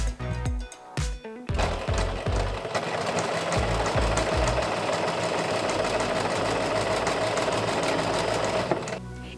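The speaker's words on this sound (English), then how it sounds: "sew it with your sewing machine" A sewing machine stitching fabric runs steadily for several seconds with a fast mechanical stitching rhythm, after a few brief handling clicks at the start.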